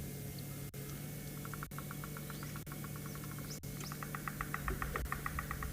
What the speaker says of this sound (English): I don't know if you can hear the woodpecker hitting the trees at the back